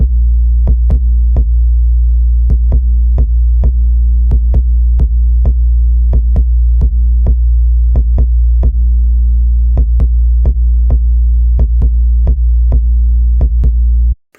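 An EQ'd 808 kick and sub bass combined in Logic for a beat: a loud, continuous low bass drone with sharp kick transients punching through in a steady, syncopated pattern for about fourteen seconds, no talking.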